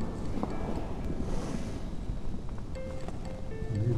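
Steady wind blowing through an abandoned church in Wallonia, Belgium, a continuous low rushing buffet against the microphone with faint knocks, no voices.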